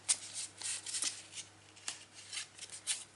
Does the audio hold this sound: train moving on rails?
no